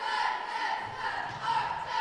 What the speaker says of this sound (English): Crab Orchard cheerleaders do their opening cheer